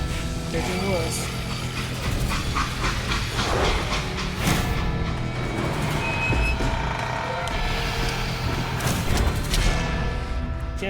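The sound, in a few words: freight train in video game Call of Juarez Gunslinger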